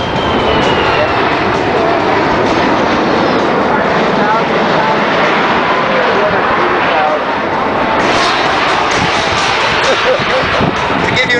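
A Boeing C-17 military transport jet passing at a 2010 airshow, a loud continuous roar of engines filling the clip without a break, with no voices over it.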